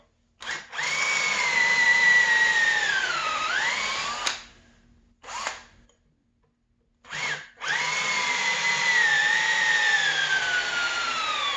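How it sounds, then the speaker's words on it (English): A power drill whines loudly in two long runs, pitch dipping as it bites into the wood of an old axe handle, with short bursts in between. "the wood out of the old axe handle, and I decided I'm just going to drill it out"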